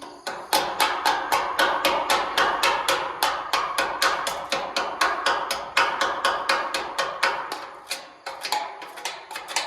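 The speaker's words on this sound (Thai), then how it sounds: "ผมสิมาเคาะเบิงว่า ห้อยเชื่อมมันสมบูรณ์บอ" Hammer tapping metal welds on a garden house roof frame under construction, a fast steady train of bright metallic taps at close range that slows near the end, no talk.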